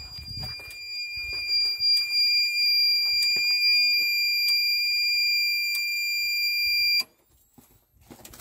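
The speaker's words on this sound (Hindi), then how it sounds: "आपको बीप का आवाज़ सुनाई देगा और आपको पता चल जाएगा बजर बज रहा है" A steady high electronic beep tone from a solar electric fence buzzer, shorted to trigger it, sounds continuously for several seconds, with faint clicks beneath, then cuts off abruptly into near silence.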